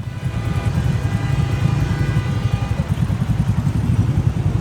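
A motorcycle engine idles loud and close at a traffic signal on Mall Road in Lahore, a steady low putter with a fast even rhythm, alone and without voices.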